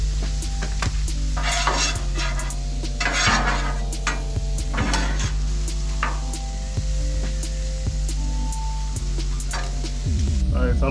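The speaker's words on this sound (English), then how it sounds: "All right, so I'm going to get this mixed together." Shrimp being stirred through Cajun Creole garlic butter in a sizzling pan, with steady frying hiss, repeated scraping and clinking of a utensil against the pan, and a low background hum.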